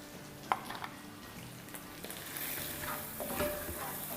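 An onion, tomato and ginger-garlic masala fries in a pot, a soft, steady sizzle with faint clinks of stirring, heard up close and quiet, without speech.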